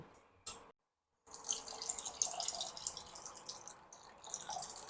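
Water pours steadily into a pan of fish being cooked for doodh katla, a bright splashing stream that breaks off briefly and then resumes, with no talk over it.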